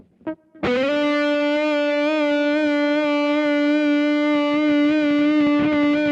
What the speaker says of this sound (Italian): Diamo un bel po' di volume con una bella distorsione